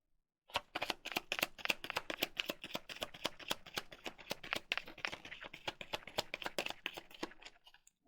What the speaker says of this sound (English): Now I'm gonna just shuffle another 2 more times and then we'll be done with this deck.